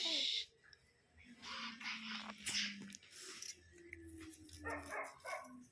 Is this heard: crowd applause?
no